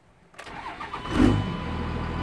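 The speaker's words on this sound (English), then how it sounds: "So the truck started right up" A 24-valve second-generation Cummins diesel pickup with a VP44 injection pump cranks briefly and fires into a rough rumbling idle, a loud close engine catch that settles into steady running.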